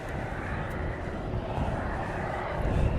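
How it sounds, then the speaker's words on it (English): A DHL cargo aircraft preparing for departure at East Midlands Airport gives off a steady, broad engine roar that swells slightly toward the end, heard continuously from a moderate distance with no talking. "there was that DHL which was pushed back, and it's getting ready to go"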